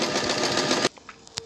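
A sewing machine stitches an elastic waistband with a fast, dense, continuous whirr for almost a second before stopping abruptly, followed by a few faint clicks.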